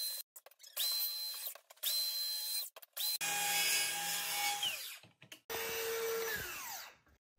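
A power tool whines through a series of shallow cuts in a door frame recess, running in repeated loud, close bursts with short silent gaps as it spins up and winds down between passes.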